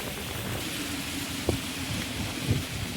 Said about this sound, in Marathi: थोडासा पावसाची पण बुरबुर चालूच राहते.